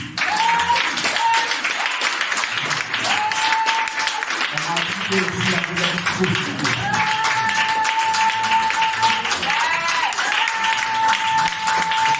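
A church congregation at a Sunday service claps together to acclaim Jesus, steady rhythmic applause running throughout alongside singing voices and tones.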